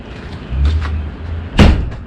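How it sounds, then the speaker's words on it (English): A low thud, then a sharper louder bang close by, like a heavy door swinging shut and latching, on a 2020 Rockwood Signature Ultra Lite 8329SB travel trailer. "The door closes, and that'll go right over."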